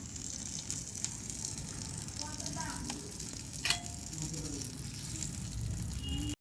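Cooking ingredients sizzle steadily in a hot frying pan while being stirred, a constant close crackle with a few scraping clinks of the spatula and soft background voices.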